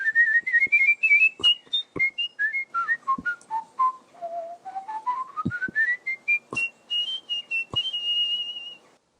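A person whistles a lively, sliding tune alone, the notes gliding up and down in quick phrases with a few sharp clicks between them.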